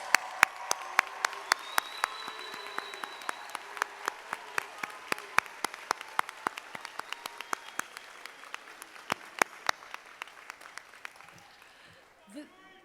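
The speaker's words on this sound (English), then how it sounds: "Let's give them one more round of applause." Applause for graduates at a 2022 NYU graduation ceremony at United Palace, a large hall, a sustained patter of many hands with sharp individual claps standing out, gradually thinning and fading near the end.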